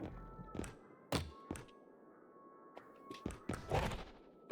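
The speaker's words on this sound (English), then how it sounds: "If I stack carts on top of each other, maybe I can make it a little bit of an easier jump" Shopping carts stacked onto one another in the R.E.P.O. video game give a series of hollow thunks and taps, several sharp knocks spread irregularly across a few seconds over a quiet hum.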